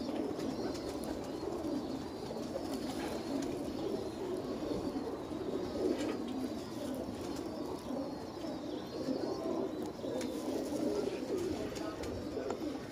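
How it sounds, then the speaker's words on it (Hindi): Soft, repeated cooing of pigeons in the background, low and murmuring, with faint chirps and ambient noise around them. "एक है भी कबूतर डब वाला।"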